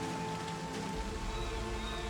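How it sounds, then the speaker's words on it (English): Steady rain falls in the video game Project Zomboid, an even, close hiss of drops with a faint low rumble and no talk. "A little foggy, a little rain"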